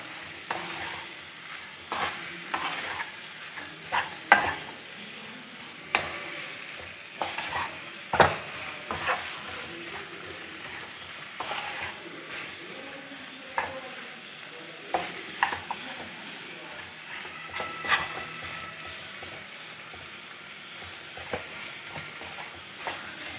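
Onions fry in a pan for a restaurant-style chicken gravy, with a soft continuous sizzle broken by repeated scraping and clattering strokes of a spoon as they are stirred, close by.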